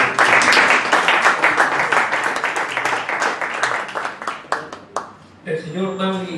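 Audience applause for a doctor at a law academic conference, steady clapping from a crowd that tapers off, with a voice speaking over it near the end.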